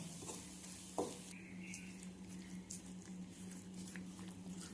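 Coconut roasted to brown is stirred into a pot of Kerala kootu curry, giving quiet scraping and squishing with a faint sizzle and a soft clink of the pan.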